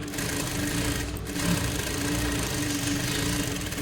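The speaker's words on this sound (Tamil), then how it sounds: "அதே மாதிரி நம்ம இந்தாண்ட ஒரு தையல் போட்டுக்கலாம்" A sewing machine stitches fabric in a fast, steady mechanical whir with an even rhythmic hum, close and loud throughout, no voices.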